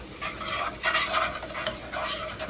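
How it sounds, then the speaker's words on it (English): Butter melts in a pan on a stove at low heat, with a close crackling sizzle and bursts of stirring or scraping, no talking. "I'm adding some butter."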